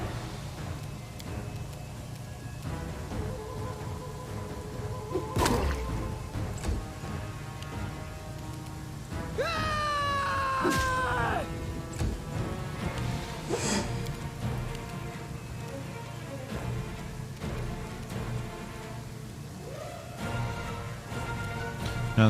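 Steady rain falls throughout a fantasy role-playing game scene in Pathfinder: Kingmaker, a continuous hiss running under game music and occasional effects, with a brief swell of other game sounds midway.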